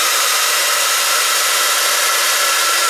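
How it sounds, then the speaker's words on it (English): A heat gun blows loudly and steadily as it melts embossing powder on wood, a constant airy, hissing whir with no pauses and no voices. "Then you need a heat tool or heat gun."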